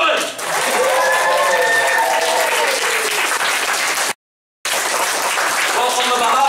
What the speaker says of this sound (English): And finally, give a massive round of applause for Mr. James Nolan.